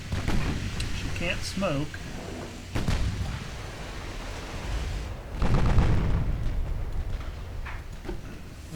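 Naval guns fire in the Ultimate Admiral Dreadnoughts battle game, with the German ship Admiral Scheer opening fire in a 1920 battlecruiser action. Heavy booming blasts and rumbling come in separate bursts, partly under a voice talking.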